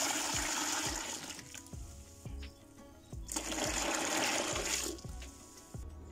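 Hot water pours steadily for washing towels, a loud, continuous rushing splash with soft rhythmic thumps beneath it that swells, dips briefly midway, then surges again.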